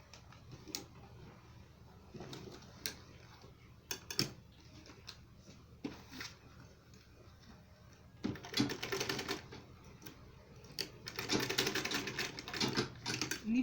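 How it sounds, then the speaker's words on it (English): A sewing machine stitches the side seam of a double-pocket fabric purse, starting with scattered clicks and ticks, then running in two longer rattling bursts toward the end. "and then I also sew the other side"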